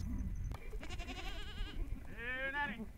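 Goats on a cattle ranch bleat twice, close by. The first cry is short and wavering, and the second is longer and quavering, over faint background noise.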